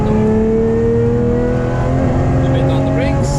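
A Lamborghini accelerating hard on the Nürburgring, its engine note loud and sustained as it climbs through the revs with a brief tire squeal. A driver talks over the steady engine roar.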